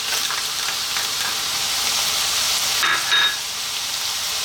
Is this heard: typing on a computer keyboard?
no